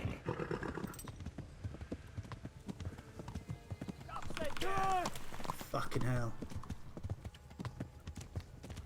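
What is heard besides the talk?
horse galloping hooves, from video game Kingdom Come Deliverance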